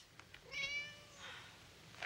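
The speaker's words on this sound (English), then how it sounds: "It was a cat." A cat meows in a single drawn-out, wavering cry in a scene from the 1993 film Leprechaun, moderately near and fairly loud, followed by softer breathy noise, with no talking.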